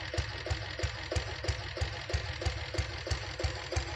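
Royal Enfield diesel Bullet motorcycle idling at slow speed, a steady, evenly spaced thumping beat of about three pulses per second, close and clear with no talk.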